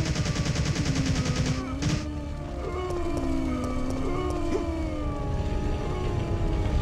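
Sustained machine gunfire in Resident Evil 3 Nemesis, dense rapid bursts layered with ringing, wailing tones and background game noise, loud and continuous with no talking.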